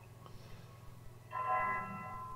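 A church bell tolls once in the Boardwalk Empire TV drama, striking over a low background hum and ringing on as it slowly decays.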